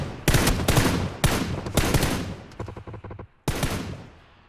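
Rapid bursts of gunfire in PUBG on the snowy Vikendi map, several loud close automatic volleys with short gaps, a brief crackling flurry, then another heavy burst, with no talking.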